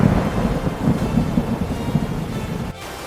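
Heavy rain pours down during a thunderstorm in an outdoor wild setting, a dense continuous hiss with low rolling thunder rumbles beneath, before a slight drop near the end.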